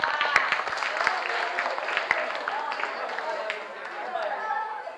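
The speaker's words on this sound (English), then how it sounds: "Big applause for all of us." An audience of students at a school English session claps while voices chatter over it, a moderately loud, busy patter of applause mixed with talk all the way through.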